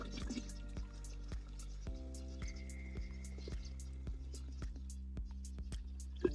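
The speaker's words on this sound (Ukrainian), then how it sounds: "Все виливаємо оприскувач." Pesticide solution for a first orchard spraying against overwintering pests is poured into a garden sprayer; quiet liquid drips and splashes fall in an irregular rhythm over a low steady background hum, close and faint.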